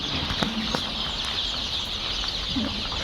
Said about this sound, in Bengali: এখন কিন্তু মুরগি আছে ফার্মে